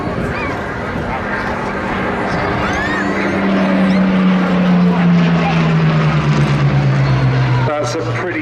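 A Battle of Britain Memorial Flight warbird passes at an airshow in Cleethorpes, its piston engine droning loud with a slowly falling pitch as it goes by, under a commentator's voice over the public address.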